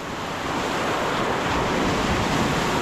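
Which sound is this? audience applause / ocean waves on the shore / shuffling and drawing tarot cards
ocean waves on the shore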